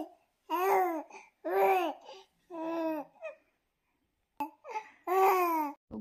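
A three-month-old baby babbles in bursts of drawn-out cooing vowels, close and clear, with brief pauses between phrases.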